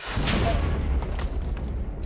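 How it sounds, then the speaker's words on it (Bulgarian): A bazooka fires in Minecraft, one sharp blast at the start that fades into a rumbling, crackling tail, with no voice over it. "Тази базука, като гледам, гърми горе-долу колкото един крипър."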